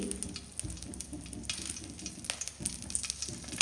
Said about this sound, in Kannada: ಒಂದು ಸ್ಪೂನ್ ಎಣ್ಣೆ ಹಾಕಿ ಈ ಮೆಣಸನ್ನು ಸ್ವಲ್ಪ ಫ್ರೈ ಮಾಡಬೇಕು ಇದಕ್ಕೆ ಕರಿಬೇವು ಕೂಡ ಸೇರಿಸಿ